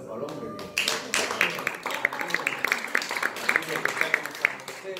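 Applause at a FEDAP 2018 event in Belén, a modest round of hand clapping that sets in after about a second and carries on with uneven claps while a voice talks over it.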